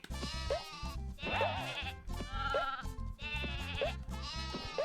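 Sheep in a PlayStation video game bleat repeatedly in a steady rhythm over looping game music, each bleat loud and wavering, with no talk.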